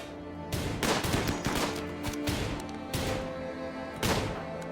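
Gunfire in the colony game RimWorld with a Frostpunk-style winter setting: dense, overlapping bursts of shots and impacts in rapid irregular succession, loud and close, no talk.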